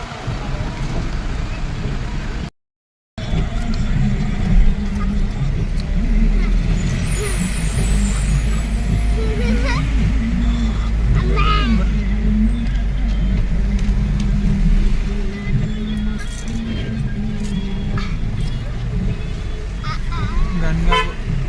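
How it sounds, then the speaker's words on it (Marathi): Busy road traffic idles and rumbles with repeated car horns and a truck's air brake hissing, voices chatting nearby; a brief silent gap early on. "ट्रॅफिक लागलेली आहे।"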